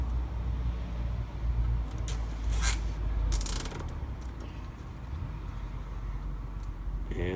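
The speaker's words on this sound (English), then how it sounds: "you'll need a zip tie. So we put it around the PVC pipe through the holes." A plastic zip tie is pulled tight around PVC pipe, giving a couple of quick ratcheting zips over a low rumbling background, close to the mic.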